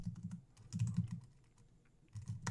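Someone types on a computer keyboard while coding, giving soft, quick clusters of key taps in a few short bursts with pauses between them, close but quiet.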